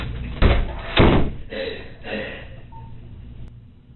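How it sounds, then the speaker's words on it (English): A door is shut in an interview room, with two heavy thuds and some rattling and shuffling, close and fairly loud, then quieter room sound. "I'm just going to close the door for privacy"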